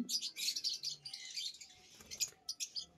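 Lovebirds in a bird shop, including blue cobalt mutations, chirp and tweet in rapid, overlapping bursts, close and bright, with no voices.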